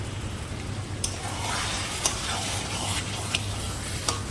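Spices frying in oil with salt and turmeric as they are stirred, a steady close sizzle with occasional sharp clicks of a spoon against the pan, no voices.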